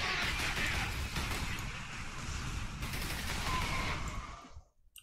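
Rapid, dense gunfire rattles through combat in the video game Warhammer 40K: Space Marine, a continuous fusillade of bursts at moderate loudness that abruptly cuts off near the end.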